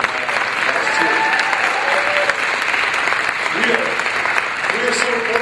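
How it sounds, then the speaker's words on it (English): Applause from an audience at a Peace Learning Center gathering honoring Crispus Attucks high school students, a steady dense wash of clapping with a few voices faintly audible underneath. "let's give them a big round of applause too"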